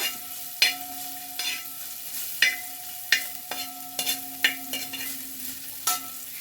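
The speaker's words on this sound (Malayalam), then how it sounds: "നമ്മൾ നാളികേരക്കൊത്ത് മൂത്ത് ചുവപ്പ് നിറമായി വരുന്നുണ്ട്" Coconut pieces fry in a pan for tender coconut payasam, a soft sizzle punctuated by regular, rhythmic strokes of a spoon stirring and scraping the pan.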